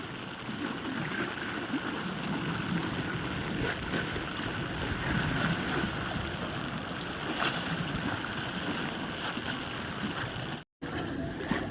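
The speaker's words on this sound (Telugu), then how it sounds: "చూడండి వాటర్ ఫ్లో ఎంత స్పీడ్గా వస్తుందో" Fast floodwater on the swollen Godavari river at Dharmapuri rushes in a loud, steady roar during rain, mixed with wind buffeting the microphone, with no voices.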